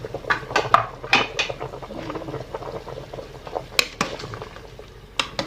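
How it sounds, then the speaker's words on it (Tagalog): Potatoes go into a pot of simmering pork bone stew, with scattered clinks and knocks of utensils against the pot over a soft bubbling bed, several sharp taps near the start and end. "ilagay na natin ang ating patatas"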